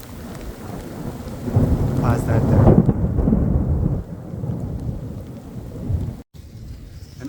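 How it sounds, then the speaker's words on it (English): A thunderstorm at St. Mark's Anglican Church cemetery in Niagara-on-the-Lake, with heavy rain pouring steadily and a rolling rumble of thunder swelling midway, close and loud, with a few brief spoken words. "There's lightning, there's thunder."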